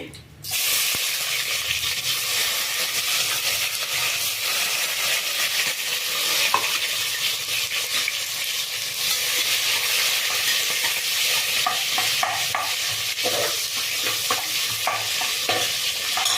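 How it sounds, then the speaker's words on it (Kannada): Onions fry in oil inside a pressure cooker, a loud, continuous sizzle with faint stirring scrapes, heard close up with no talking. "ಈರುಳ್ಳಿ ಚೆಂದ ಫ್ರೇ ಆಗಲಿ"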